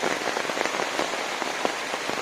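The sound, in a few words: monsoon rain falling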